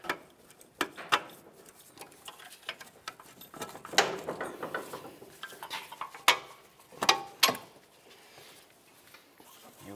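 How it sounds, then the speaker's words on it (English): Strut bolts are worked loose on a 1999-2003 Toyota Solara with a ratchet, giving faint, irregular metallic clicks and clanks, several sharper knocks among quieter rattling, with no voices. "Go ahead and start removing those bolts."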